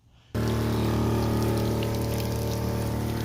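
Garden sprayer misting glyphosate herbicide across a lawn being killed off for renovation, a steady pressurized hiss starting abruptly after a brief quiet moment and continuing evenly and close.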